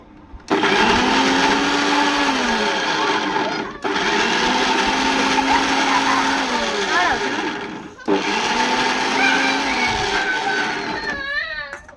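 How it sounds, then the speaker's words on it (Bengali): An electric mixer grinding a paste with salt and sugar, a loud whirring roar running in three long bursts with brief pauses between, close up, with pitch wavering as the load shifts. "এই যে এটা বাটা হচ্ছে"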